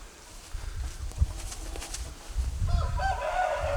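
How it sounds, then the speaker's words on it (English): An Asil rooster mid-molt makes fowl sounds that rise toward the end, with a brighter crowing-like call building in the last second over low background rumble; no speech. "beautiful Asil Rooster"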